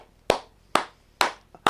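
Hands clap four times in a steady, evenly spaced rhythm, each clap sharp and close with a short decay, plus a faint softer tap just before the last clap.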